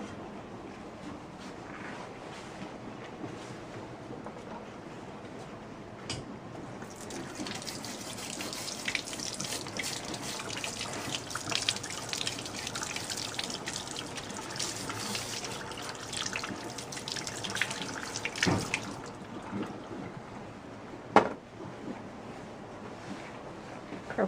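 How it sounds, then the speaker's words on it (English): Tap water running into a sink while a filter from patient care equipment is scrubbed with a brush, a steady rushing stream that swells for several seconds and then eases back to a quieter trickle, with a sharp knock near the end. "remove filter and clean with brush under running water"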